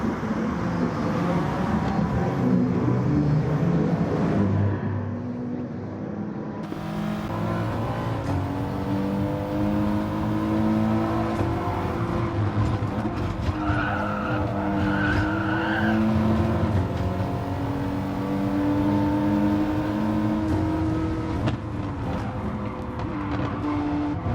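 Race car engine in a racing video game, a TT, droning loudly and steadily throughout with rising and falling revs, gear changes and tire skids, no talking.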